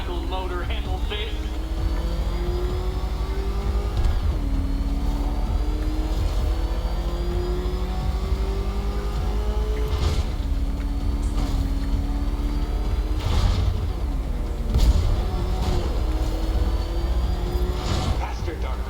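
Batmobile engine from Batman: Arkham Knight revving at speed, a steady loud drone with rising and falling pitch sweeps as it accelerates, broken by several sharp bursts and impacts, with a voice talking over it.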